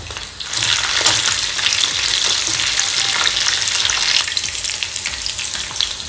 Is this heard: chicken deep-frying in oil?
yes